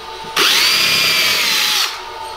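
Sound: power drill pre-drilling wood

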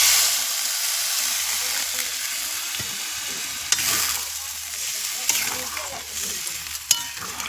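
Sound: water poured into spicy chicken sizzling over a wood fire

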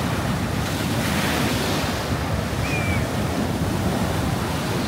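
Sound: rough sea waves and wind during a storm

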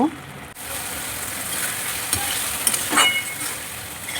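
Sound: ridge gourd and potatoes being stirred and fried

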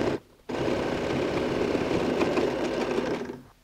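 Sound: sewing machine top-stitching a quilted toiletry bag

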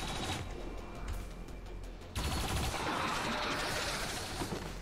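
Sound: turrets firing in the video game XCOM 2

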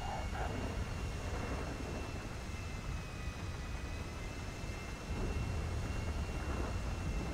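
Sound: airplane engine in GTA 5 video game

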